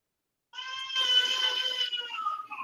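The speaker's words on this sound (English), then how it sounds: "sorry you can hear my youngest crying." Young child crying indoors, a sustained wavering wail that starts suddenly after a short silence and continues for about two seconds, fairly faint and without other voices.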